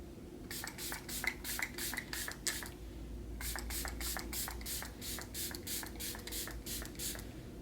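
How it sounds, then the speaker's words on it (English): Two quick series of short spray bursts from a pump mist bottle of makeup setting spray onto a face, rapid rhythmic pssht sounds close up, separated by a brief pause. "So let's spray your face. First, I'm going to use the Juvias Place Ready Set Sealed Setting Spray."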